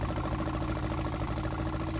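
Tractor engine in Farming Simulator 19 labouring up hills, a steady, continuous low mechanical drone with a throbbing, knocking rhythm that holds at a constant loud level throughout.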